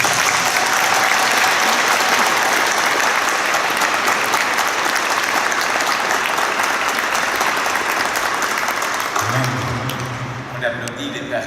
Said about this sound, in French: Vous pouvez encore les applaudir.